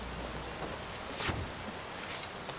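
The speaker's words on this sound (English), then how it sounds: "God, it's still raining." Steady rain in Skyrim Special Edition, a continuous soft hiss of falling drops at moderate level with one brief swell near the middle and no voices.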